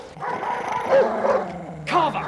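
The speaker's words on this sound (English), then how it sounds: "Get this dog off me!" A dog barks and yips in short excited bursts at close range, mixed with growly noises and overlapping agitated human voices.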